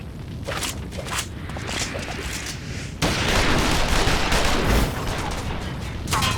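Rapid gunfire bursts crackle through a Final Fantasy XIV cutscene, dense and sustained, swelling louder midway as the volley intensifies and keeps going to the end.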